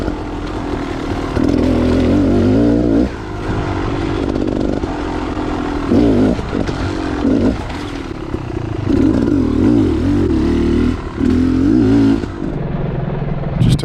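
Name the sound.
enduro motorcycle accelerating through wet trail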